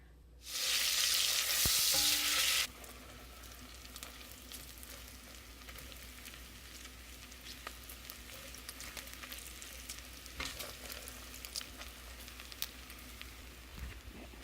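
Bacon and butter cooking down in a pan: a loud burst of sizzling for the first couple of seconds, then a quieter, steady frying crackle with occasional small pops and clicks.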